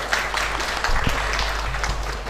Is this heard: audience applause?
yes